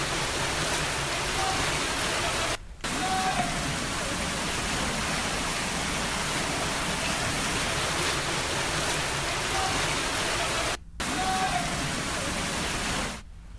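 Heavy monsoon rain pours down with rushing flood water, a loud, steady broadband roar that continues unbroken apart from two brief cuts, with no voices.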